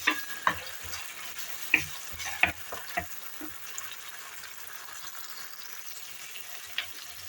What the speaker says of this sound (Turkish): Salça ve havuçlarım da birazcık sotelensin.